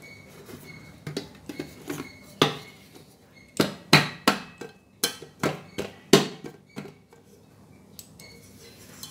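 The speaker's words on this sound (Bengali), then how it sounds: "এবার এর উপরে একটা প্লেট রাখলাম।" A plate is set on top of a cake tin holding a chhena cake, giving a close run of sharp metallic clinks and knocks, some louder than others, in a quiet room.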